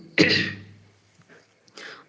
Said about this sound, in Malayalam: ഇന്നലെ ആ മഴ നനഞ്ഞു വൈകിട്ട് അത് കഴിഞ്ഞാൽ പിന്നെ ഒരേ ചുമയാ ഇടക്കിടക്ക്